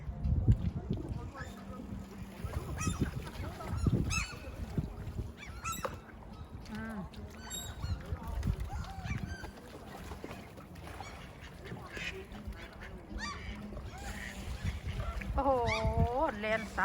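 Geese and ducks honk and quack while being fed bread by the sea, a busy scatter of calls near and far, with people talking over the birds throughout and louder honks near the end.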